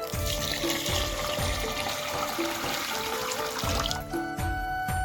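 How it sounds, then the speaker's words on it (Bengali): Rice is scrubbed and rinsed by hand under running tap water in a rural Bengali home, with a continuous stream of water and rhythmic rubbing and swishing of wet grains, close and fairly quiet. "এখন দেখো কলের জল দিয়ে ভালো করে কষলে কষলে ধুয়ে নিচ্ছি"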